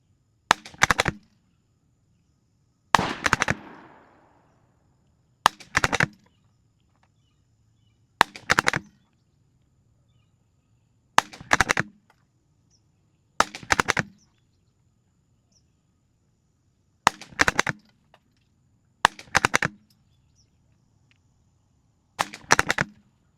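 A Savage B22 Precision rifle fires a ten-shot group, with sharp, close cracks spaced a few seconds apart over a quiet outdoor background.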